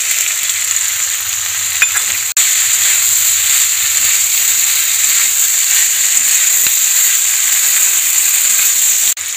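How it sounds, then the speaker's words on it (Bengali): Chopped vegetables with beans and tomatoes fry in a pan for a Bengali-style chicken stew, a steady close sizzle and hiss running throughout without any talk. "সব অ্যাড করার পর সবজিগুলো একটু সামান্য ভেজে নেব।"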